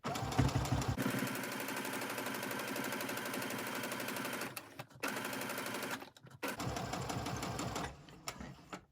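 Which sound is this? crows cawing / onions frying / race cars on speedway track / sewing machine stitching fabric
sewing machine stitching fabric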